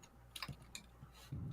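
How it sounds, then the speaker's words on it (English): A few quiet, separate clicks of computer keyboard keys being pressed, close and faint, with a low steady hum underneath. "You can press a bunch of keys and see the codes change."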